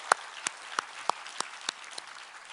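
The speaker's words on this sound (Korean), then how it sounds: "우리 하나님께 감사와 영광의 박수를 드리겠습니다." Church congregation at a Sunday worship service clapping, heard as a steady series of about eight sharp, evenly spaced claps, fairly soft and distant with no talking.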